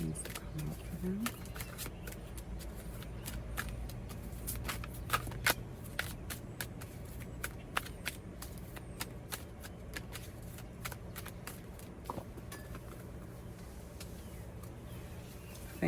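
Tarot and oracle cards being shuffled over and over until one drops from the deck: a long run of soft, rapid riffling flutters and slaps, close and quiet, with faint speech now and then.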